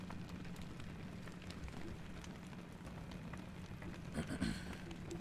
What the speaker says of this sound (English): The rain's finally letting up.